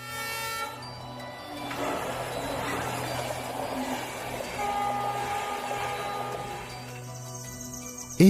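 A train rolls along a railway track through a national park in India, a steady rumbling and clattering passage that holds for several seconds, with a faint tonal horn-like hum underneath.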